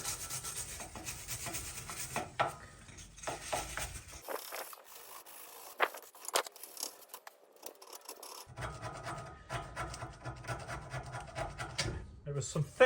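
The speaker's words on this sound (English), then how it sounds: "Right, we get wire brushing." Rough, repeated scraping strokes of a wire brush on a corroded Seat Arona brake disc, close and uneven in rhythm, with a short quieter pause midway.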